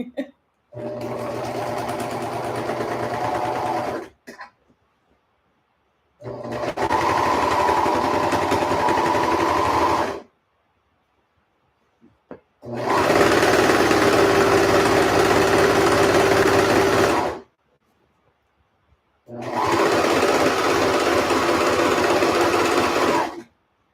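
A sewing machine runs in four long bursts of steady mechanical whirring while pants are stitched, each burst separated by brief silences as the foot pedal is released, loud and close with no talk.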